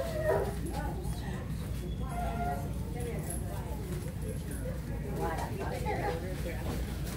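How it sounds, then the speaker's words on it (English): A dog whimpers and gives short yips and barks amid excited human talk outdoors, the animal sounds coming in scattered bursts partly buried under the voices. "What a dog."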